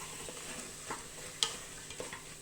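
Mutton sautéing with tomatoes in a pan makes a soft, low sizzle, broken by a few light stirring scrapes and one sharper clink of a spoon against the pan.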